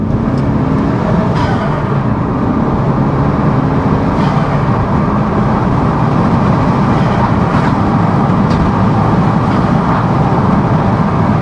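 A Renault Megane RS250 engine with forged blow-off valve and aftermarket intake drones loudly and continuously, heard from inside as it pulls through the gears, with a steady roar and no voices.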